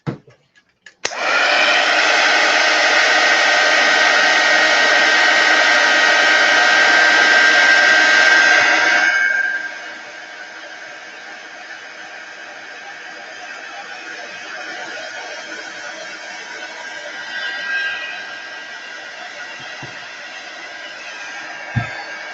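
A hair dryer blasts loud and steady for about eight seconds while drying a watercolor painting of a bunny, then cuts off, leaving a quiet room tone with faint handling noises.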